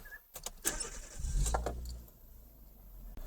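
A car engine is started in the cabin, a short cranking burst settling into a low rumble, preceded by a few clicks and light rattles, with no talking.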